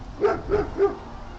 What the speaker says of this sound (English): Pardon the dog, barking at the wind.